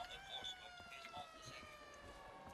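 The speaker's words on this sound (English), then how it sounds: "Does a little siren." A faint, wavering electronic siren sounds from the Civil Protector ally in Call of Duty Black Ops 3 Zombies, Shadows of Evil, with scattered game noises and someone talking over it.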